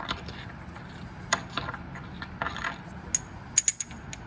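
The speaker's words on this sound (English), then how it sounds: "The other one, I'm gonna put it into the mortar and pestle. I'm gonna grind it down to powders." Pestle grinding a solid chemical to powder in a mortar for a reaction-rate lab, a quiet run of faint scraping and sharp clicking taps that cluster toward the end, with no talk.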